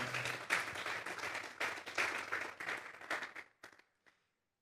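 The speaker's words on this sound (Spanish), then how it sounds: "Vamos a darles ofrenda de palmas a Dios en esta hora." A church congregation claps in praise during a Spanish-language service, a quiet, moderately full round of hands that comes in waves, thins to a few scattered claps and then falls silent.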